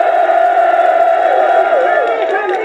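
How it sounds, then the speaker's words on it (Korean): A large outdoor rally crowd in Yeouido, Seoul shouts and chants together against a presidential impeachment, a dense, loud, sustained roar of voices with rising cheers. "더욱 소리 높여 탄핵 반대를 외쳐주십시오"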